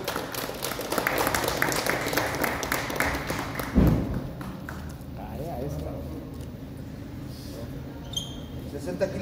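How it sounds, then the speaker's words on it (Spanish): A crowd at a boxing weigh-in applauds a fighter with a few seconds of dense, moderately loud clapping that ends in a thump, followed by a quieter room with scattered taps and low voices. "Fuerte aplauso para Alejandro."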